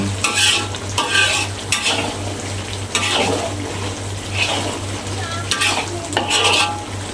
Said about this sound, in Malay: Ni kita masuk kari ni, kita nak tunggu dia sampai dia betul-betul garing.